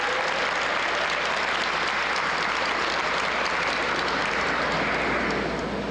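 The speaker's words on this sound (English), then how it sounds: "Give yourself a big round of applause." Sustained, dense applause from a graduation audience at a George Washington school ceremony in New York, steady and loud throughout with no break and no speech over it.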